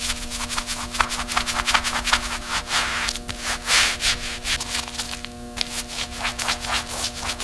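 A steel pistol slide and barrel from a 1927 TT pistol being hand-sanded to a fine finish, giving steady rasping back-and-forth strokes in a fast even rhythm, close and continuous over a low constant hum.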